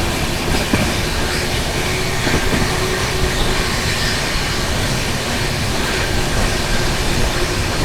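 Duronto Express train running at high speed just after leaving Ratlam Junction, a steady loud roar of wheels and carriage rumble heard close from on board, continuous throughout with no talk.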